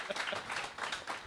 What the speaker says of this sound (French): on peut l'applaudir de ouf